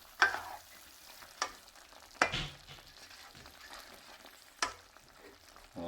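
Chicken vindaloo cooks in a pan with a quiet steady sizzle, broken every second or two by sharp scraping stirs of a utensil against the pan.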